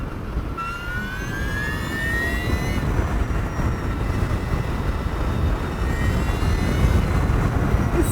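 An Energica EVA Rebelle RS electric motorcycle accelerates hard, its motor whine rising in pitch in sweeping steps over loud, continuous wind and road roar.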